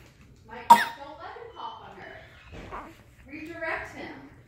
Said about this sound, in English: thank you for coughing on your sister.